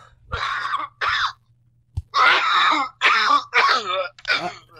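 A series of harsh, rasping coughs or throat-clearing bursts, close and loud, in several separated fits with brief pauses between them.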